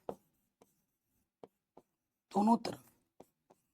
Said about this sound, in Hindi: यहाँ लिखेंगे दोनों तरफ